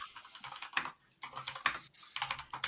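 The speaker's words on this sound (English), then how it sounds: "Can you hear my keyboard going off?" Quiet, close clatter of a computer keyboard being typed on in short bursts of rapid keystrokes with brief pauses between, with no talk over it.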